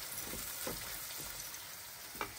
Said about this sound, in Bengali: আমি ঢেলে দিব, এটা অনিয়ন ভাজি হয়ে গেছে, অনিয়ন ভাজি